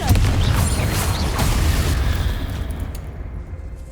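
A loud Confringo blasting curse explodes in Hogwarts Legacy, a heavy booming burst with rumbling debris that rolls on for a few seconds before cutting to near silence.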